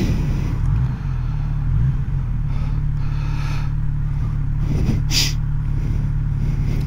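Kawasaki Z900RS motorcycle engine on a test ride, a steady low rumbling drone running throughout with slight throttle variation and a brief sharp burst near the end.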